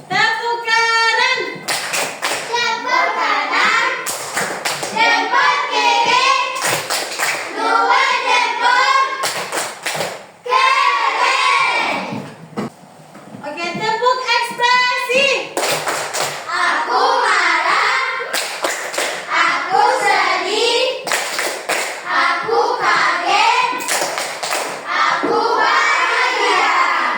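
Schoolchildren in an Indonesian classroom clap their hands in short rhythmic bursts during a clapping chant, mixed with loud shouting and chanting voices throughout.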